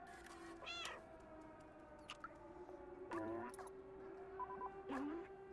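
A cat in the video game Stray meows several times, with short, separate calls spaced through a quiet in-game ambience that has a steady tonal hum underneath.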